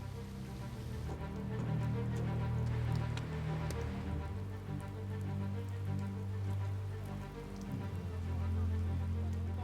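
Rain falling steadily on a large Chinese energy construction site during concrete casting, a dense close patter with scattered drop impacts over a low machinery hum.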